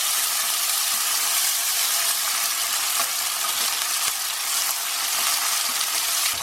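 Ginger, garlic and fresh tomatoes fry in a pan, a loud continuous sizzle and crackle with occasional faint stirring scrapes.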